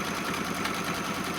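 A Kimberbell embroidery machine stitches the final tack-down around a roll-up pouch, a fast, steady mechanical rattle of needle strokes that runs evenly at close range and then cuts off abruptly.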